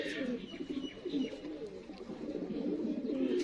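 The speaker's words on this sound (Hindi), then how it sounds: "प्योरिटी च दोस्तों इंडियन सुरखे कबूतर।" Indian surkhay pigeons cooing, soft repeated rolling coos overlapping one another at close range, fairly quiet, with faint background noise.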